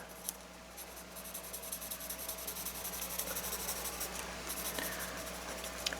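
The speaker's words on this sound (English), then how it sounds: "Sketch some of this over here." Close, continuous pencil strokes sketch Swan Bridge with a ruler at hand, a dry rhythmic scratching and rubbing with a few louder taps. No talking.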